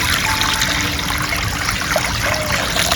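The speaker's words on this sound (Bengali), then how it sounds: "চাউমিন সেদ্ধ করার জন্য জল দিচ্ছি" Water poured into a pot for boiling chowmein: a steady, continuous splashing trickle, close and fairly loud for the whole stretch, no talking.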